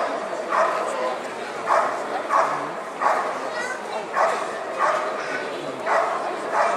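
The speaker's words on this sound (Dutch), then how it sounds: "dan blaffen ze wat intensiever" Dogs bark during the protection phase of the 2010 FMBB world championship grand final, giving steady rhythmic barks about once a second over a noisy outdoor crowd.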